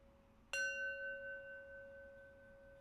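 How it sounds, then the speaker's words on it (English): A single clear strike of a meditation bell closing a practice session rings out in a quiet room, its pure tone decaying slowly over a few seconds. "now we're going to draw our practice to its close with 3 rings of the bell"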